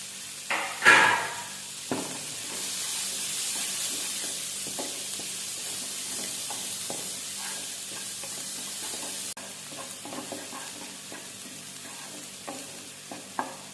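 Chopped onions and green chillies frying in a pan, a steady close sizzle with a sharp burst at the start as they hit the oil and scattered light stirring clicks, no voices.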